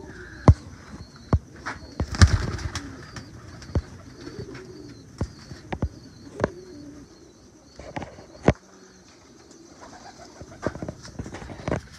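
Teddy pigeons kept as fancy birds cooing at intervals, soft throaty coos mixed with sharp wing claps and scattered chirps nearby, no talking.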